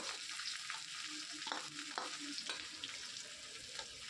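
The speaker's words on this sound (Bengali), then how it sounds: "এবার এটাকে আমি হালকা ভেজে নেব প্রথমে একটু হালকা করে ভেজে নেবো পেঁয়াজটা" Finely chopped onion fries in oil with cumin seeds, dried red chilies and bay leaves, a steady close sizzle broken by a few sharp scrapes of stirring, with no talking.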